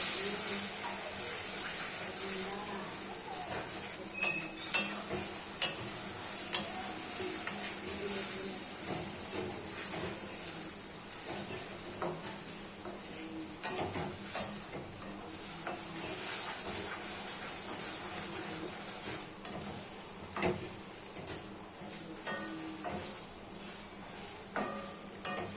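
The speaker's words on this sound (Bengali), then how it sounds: "এবার আমরা এটা খুন্তি দিয়ে নাড়াচাড়া করে এটাকে ডিম ভুজিয়া বানিয়ে ফেলবো" A spatula stirs beaten egg seasoned with turmeric in a hot pan as it fries into scrambled egg. A soft, constant sizzle plays under scattered scraping clicks, close and fairly quiet throughout.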